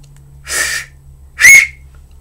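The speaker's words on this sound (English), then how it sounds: "Timmy blew his police whistle." A police whistle gives two short, shrill blasts close by, with a brief pause between them and no voices.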